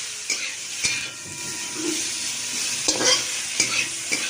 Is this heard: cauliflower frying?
yes